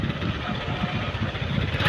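Motorcycle engine idling up close, a steady low rumbling putter with an even pulse and no revving throughout.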